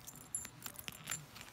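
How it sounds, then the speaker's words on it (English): Handcuff keys on a duty belt jangle in a brief run of light metallic clinks and rattles, close and fairly quiet, with no talk over them. "Over here, we have our cuff keys."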